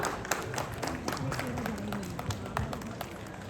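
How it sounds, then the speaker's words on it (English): Audience applause for a guest at an Indian literature festival event, a moderate wash of clapping heard over room noise, with some talking mixed in. "So, a big round of applause to Ishani Chandra."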